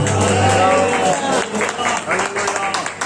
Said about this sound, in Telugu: ఇంత ఒంగోలు వాళ్ళు ఇంత చప్పగా చప్పట్లు కొడతారని నేను అనుకోలే